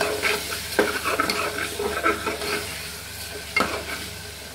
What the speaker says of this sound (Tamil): இஞ்சி பூண்டு பேஸ்ட்டு நல்லா வதங்கணும்.